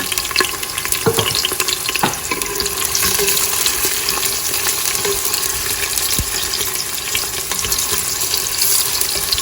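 Small onions frying in a pan with garlic for aloo gosht, a steady broadband sizzle running throughout with occasional utensil clinks and stirring, close and fairly loud with no talking.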